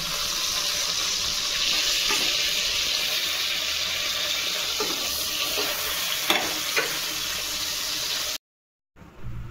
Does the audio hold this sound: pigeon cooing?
no